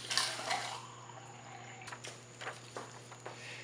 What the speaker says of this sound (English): the first thing we have to do is to measure out 65 mLs of warm water